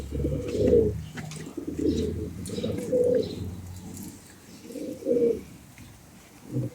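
Pigeons at a pigeon club coo in repeated low throaty bursts, several calls spaced a second or two apart, close by and with no talk.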